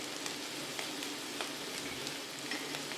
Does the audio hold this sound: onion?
yes